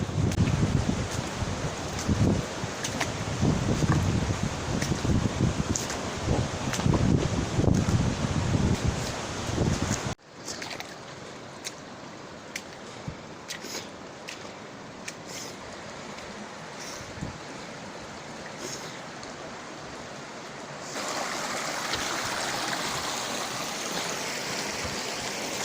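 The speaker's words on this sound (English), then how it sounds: "I hear the water." River water rushing through a valley near the Capua waterfalls in Arequipa, Peru, a steady loud flow that drops abruptly to a quieter stream and then swells again, with light rustling.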